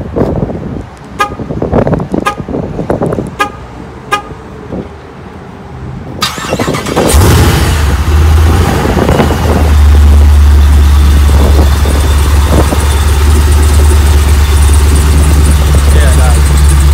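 A few short horn toots and a person talking come first, then a 700-horsepower Jeep Wrangler engine cranks and fires into a loud, deep, rumbling idle that holds steady close by.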